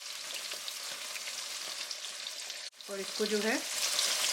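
Onions fry in hot olive oil with cumin, a steady close sizzle and crackle throughout, with a brief dip midway before a voice speaks over the frying.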